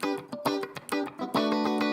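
Electric guitar played clean through an AMP1 nanotube amplifier with no effects, a short run of plucked notes and chords ringing with bright harmonics, close and alone.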